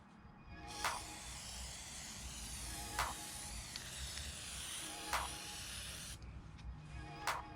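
A Plasti Dip aerosol can hisses steadily while spraying a matte black coat onto a BMW F30 kidney grill, with soft periodic clicks and brief pauses between passes, close by.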